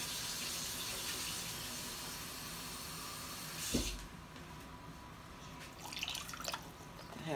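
Water runs steadily from a tap with a constant rushing hiss, then shuts off abruptly, leaving a few small clinks and drips.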